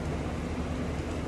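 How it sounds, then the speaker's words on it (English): Fans and a house air conditioner run just beyond a wall beside a back porch in hot weather, giving a steady, low, broadband whir that holds evenly throughout with no talking. "The noise you're hearing is fans and my air conditioner for my house is right on the other side of that wall."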